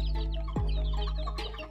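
A few close clucks from a green junglefowl, short throaty calls with a sharp descending note partway through, over low background rumble.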